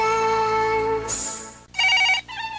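An electronic telephone ringtone sounds in a 1990 Korean TV commercial: a sustained tonal ring, then a higher chirp and two short bright bursts, with no voices.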